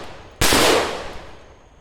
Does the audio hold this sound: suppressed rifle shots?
yes